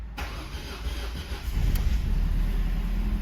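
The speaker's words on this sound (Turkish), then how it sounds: "Aracımızın ilk marşı." A car cranked for its first start after repair, having arrived by tow truck not running with a seized, rusty engine: a brief starter whir, then the engine catches and settles into a steady, close, low idle.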